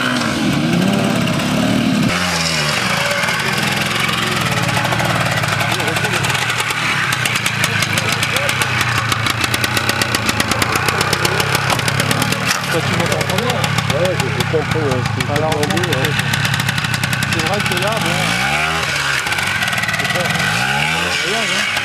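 A motorcycle engine running close by, idling with a steady pulsing throb and rising and falling as it is revved, talking over it.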